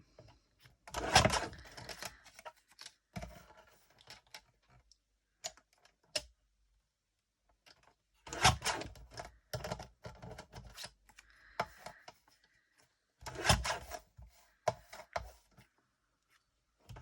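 Paper card stock for a Christmas card being trimmed down with a cutter in three bursts of crisp, close slicing and clicking, separated by quiet pauses and small handling taps.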